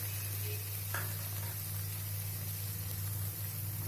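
Ginger paste stirred and frying with softened tomatoes in a pan, a steady low sizzle and hiss with a faint scrape of the spoon, close and fairly quiet, no voices.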